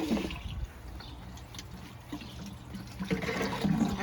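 Water pours into a container filling from a town hose supply in a New England garden, a steady close splashing gurgle that runs throughout with no talk over it.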